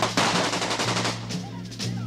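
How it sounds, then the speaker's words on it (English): AK-47 assault rifle fires in rapid bursts, a dense, loud rattle of automatic shots with brief pauses between strings, heard up close in a film trailer. "This is the AK-47 assault rifle, the preferred weapon of your enemy. And it makes a distinctive sound when fired at you"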